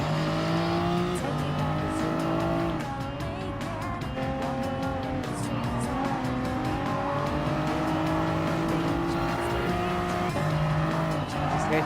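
Race car in the Gran Turismo Sport video game, engine note rising and falling through gear changes with tire squeal and skidding, loud and continuous for several seconds.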